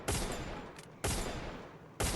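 Three sharp, loud gun blasts ring out at roughly one-second intervals during Free Fire MAX gameplay, each leaving a short noisy tail before the next shot.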